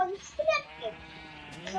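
Sheep in the video game Minecraft give short, wavering bleats, with people talking throughout.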